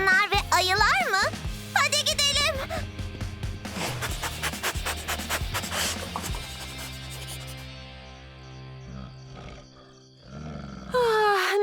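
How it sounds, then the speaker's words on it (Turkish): A big cat roars repeatedly amid cartoon-style music and effects, with a child-like voice speaking briefly at the start and end. "Bu çok daha büyük bir kedi sesi gibi."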